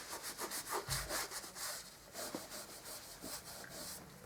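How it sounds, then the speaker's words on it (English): Paint marks on wooden boards being rubbed off with a damp cloth, a series of quiet, rhythmic scrubbing strokes close up, with no one talking. "Any marks like this, just get a damp cloth and try and rub them out."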